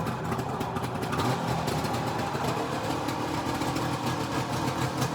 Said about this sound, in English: Nothing sounds like a 3-cylinder two-stroke.